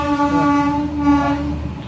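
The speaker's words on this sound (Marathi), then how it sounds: "ट्रेन इली" A Pragati Express passenger train pulls into a station, its horn sounding loud and sustained with clear harmonic tones over the rumble of the approaching cars.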